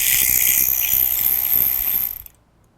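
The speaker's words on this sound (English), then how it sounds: "I have an electric ratchet here, so I'm going to do it with this for speed" An electric ratchet buzzes loudly and continuously up close for about two seconds while removing bolts from the lateral brake of an OEC 9800 C-arm, then cuts off abruptly to near silence.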